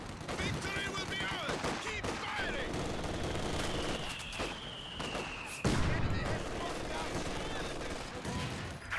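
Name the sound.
mortar fire in Company of Heroes 2 video game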